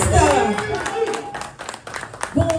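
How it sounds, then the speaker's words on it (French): Scattered clapping from an audience at a press conference welcoming an artist, uneven claps of modest density that come and go, with voices speaking over and between them. "est-ce qu'on peut applaudir pour l'artiste?"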